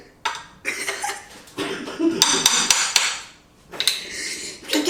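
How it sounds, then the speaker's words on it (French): Frozen coconut oil being banged and chipped in a metal saucepan, several loud hard knocks and scraping clatters in bursts, with people chuckling and talking nearby. "J'ai cassé la casserole avec de l'huile."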